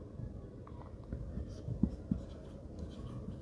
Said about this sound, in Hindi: तो यहाँ पे हम लिख सकते हैं 180 डिग्री। रीजन लिखेंगे